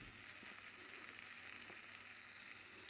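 Whole vegetables for ratatouille roasting in a pan, giving a steady, dense sizzle and crackle throughout with no talk over it.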